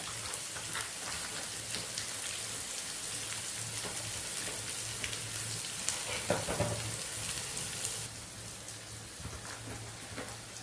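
Ginger, green chili, onion and coconut sauté in a hot pan for bun dosa, a loud continuous sizzling hiss with occasional stirring scrapes, close up and without speech.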